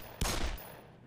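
Gunfire in the video game Black Mesa: a single sharp burst of shots, loud and close, quickly tailing off.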